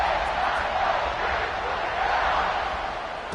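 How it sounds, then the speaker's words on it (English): Stadium crowd at a Wisconsin at Ohio State college football game, a broad steady roar and murmur after a score, distant and continuous, fading slightly toward the end. "this crowd is buzzing after that last score"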